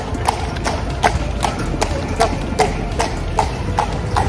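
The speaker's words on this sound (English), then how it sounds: "And I actually hear some clippity-clop behind us." Horse hooves clip-clopping on cobblestones in the center of Bruges, a steady even rhythm of clear, fairly close hoof strikes over a busy street hum.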